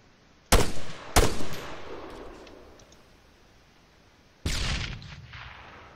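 Blasts in ARMA 3 from enemy grenades: two sharp, loud detonations close together, each trailing into a rumbling decay, followed after a few seconds of quiet by a third heavy blast with a lingering tail.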